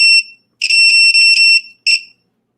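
A loud, shrill battery-powered electronic alarm beeps in repeated bursts, with short pauses between longer tones.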